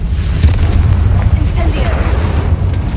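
The Confringo spell in Hogwarts Legacy erupts as a loud, continuous booming blast with heavy low rumble and a crackling burst, close and dense throughout the moment.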